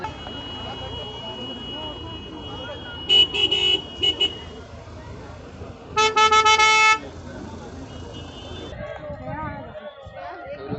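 An approaching vehicle on a road sounds its horn in two distinct bursts, the second longer, over steady traffic rumble while people talk nearby.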